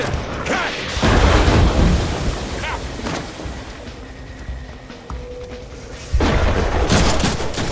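Gunfire in the Deadpool video game, bursts of booming shots and crackling rapid fire arriving in loud clusters separated by quieter stretches, heavy and close, with a voice briefly heard amid the noise.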